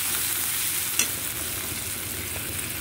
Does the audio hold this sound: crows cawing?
no